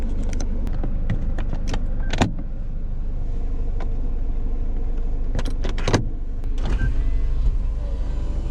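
The electric retractable roof of a Daihatsu Copen opens with a steady motor hum under the idling car, broken by scattered clicks and mechanical clunks as the panels move and latch.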